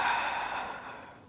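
A single long, breathy exhale close to the microphone, starting strong and gradually fading out over about a second.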